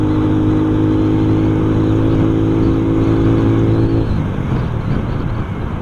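A car's engine drones loudly and steadily, close up, as it accelerates to overtake on a road under rain. The tone holds for about four seconds, then shifts lower and rougher.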